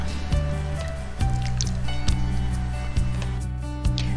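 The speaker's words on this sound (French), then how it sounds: "je vais bien mélanger mes confettis dans ma matière" Confetti being mixed into a liquid soap base, giving soft wet squishes and thick liquid sloshing in a slow repeating rhythm, close and fairly quiet.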